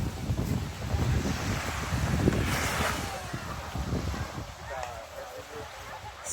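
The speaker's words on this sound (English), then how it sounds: "It's a very wonderful beach." Ocean waves wash steadily onto a tropical beach with fine sand at sunset, a soft continuous surf hiss mixed with light wind buffeting the microphone.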